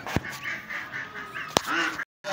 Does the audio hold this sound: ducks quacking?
yes